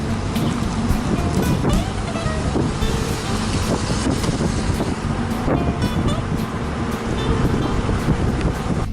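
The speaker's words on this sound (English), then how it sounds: "We're driving on the bank of Tennessee River." A car cruising along the bank of the Tennessee River, with a steady road and wind rumble inside the moving vehicle and a few faint knocks and clicks throughout.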